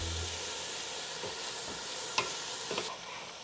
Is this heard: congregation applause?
no